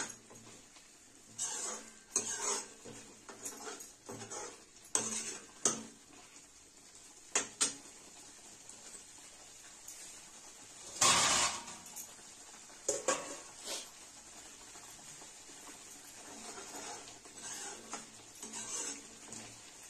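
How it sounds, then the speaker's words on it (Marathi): Mutton masala roasting in oil in a pot for a mutton rassa, with repeated scraping and stirring strokes of a spoon against the pan over a soft sizzle, one louder clatter midway. "जरा तेल सुटूस तर आणि भाजून घेऊया चांगला"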